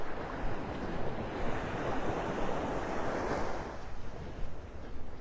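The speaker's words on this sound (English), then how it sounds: "the waves are quite low this morning compared to what we've been having" Small, low morning waves lap at Vanderbilt Beach in North Naples, Florida, a soft continuous wash of surf with wind noise over the microphone, fairly quiet and steady with no voices.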